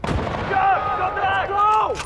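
Gunfire in the video game Battlefield: Bad Company, with a sharp shot at the start followed by ringing, whining tails and echoing blasts, loud and close, with no talking.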